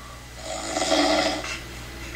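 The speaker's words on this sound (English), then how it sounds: "snoring knocked out" A sleeping woman snores, one long, rasping snore that swells and fades, close and fairly loud with no talk.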